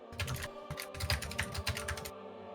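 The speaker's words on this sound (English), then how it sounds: "I heard you typing every single word of it" Quick, light typing on a computer keyboard, a busy run of close key clicks and clatters for a couple of seconds with no voices over it.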